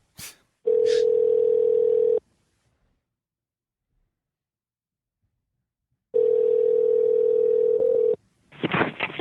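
Two long, steady telephone dial tones separated by a silent gap, with short dialing beeps at the very start and a clattering burst at the end, heard loud and clear over a phone line.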